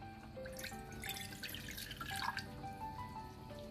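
About 200 ml of water is poured into a deeper pan while a sauce is being prepared, giving a faint, close trickle with scattered drips and small splashes, and no talking.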